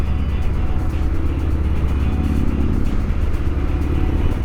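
Engine of a 2003 Harley-Davidson Sportster 1250 motorcycle while riding at low RPM, a steady, loud, rumbling drone with a continuous low throb, heard up close and alone.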